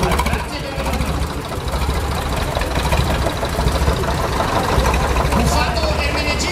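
Vintage Steyr 35 tractor engine running steadily in a parade of old tractors at a polenta festival, a continuous low rumble beneath crowd noise and a voice on a loudspeaker.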